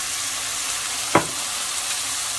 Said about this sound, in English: That's our meat sauteing away.